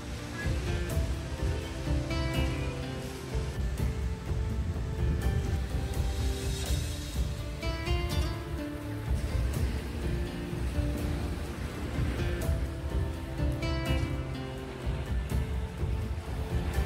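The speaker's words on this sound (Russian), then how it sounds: "море в темноте практически не видно, но зато очень хорошо слышно" Sea waves wash steadily onto the shore beside a seaside promenade in Zelenogradsk on a dark autumn evening, forming a continuous, fairly loud surf roar that fills the whole stretch without pause.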